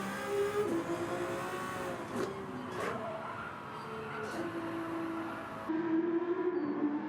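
A Ferrari 296 GTB races through a marina circuit in Gran Turismo 7, its engine holding a steady, close drone with pitch rising and dipping through gear changes, a voice talking over it.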